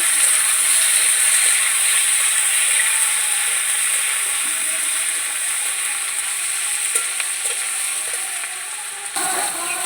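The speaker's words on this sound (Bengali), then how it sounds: "এবার একটু ভাজা ভাজা করে নেব" Onion, with tomato, sizzling steadily in hot oil in a pan for a Bengali mutton recipe with potatoes, a loud, continuous close hiss with a few faint stirring clicks near the end.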